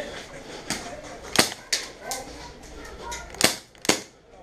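Airsoft guns fire during an indoor CQB game: several sharp, dry pops come singly and in quick pairs, with quieter rustling and movement between shots.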